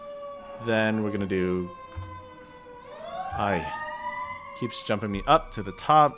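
A wailing siren sweeps up and down in pitch, rising and falling behind someone talking, fairly close and loud.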